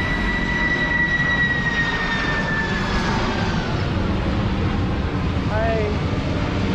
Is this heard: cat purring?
no